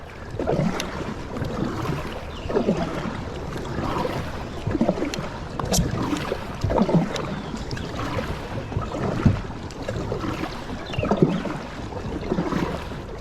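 A Perception Outlaw 11.5 kayak being paddled, with rhythmic splashes and swishes of the paddle entering the water every second or so, over a wash of wind and water.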